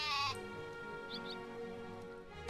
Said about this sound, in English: Another sheepy.